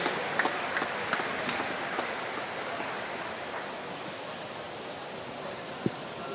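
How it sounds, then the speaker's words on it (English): Crowd at a New Zealand swimming championships session applauds during an award presentation: a diffuse, distant wash of clapping in a large echoing pool hall, steady and even, with a few sharper claps standing out early. "let's give her a huge round of applause for a huge amount of service to our sport over the years"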